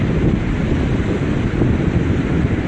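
Steady, loud roar of surf on a Southern California beach, Strands or Salt Creek, with heavy wind rumble across the microphone, continuous with no voices.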